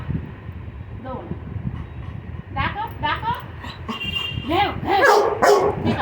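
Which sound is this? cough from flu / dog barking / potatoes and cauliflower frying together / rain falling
dog barking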